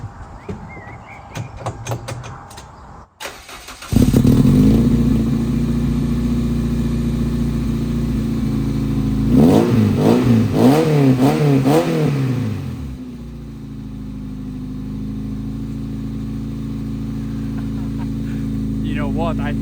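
Engine with a new Malian exhaust starts abruptly and settles into a loud, steady idle, then revs several times in a quick burst of rises and falls before dropping back to idle; a voice is heard faintly beforehand.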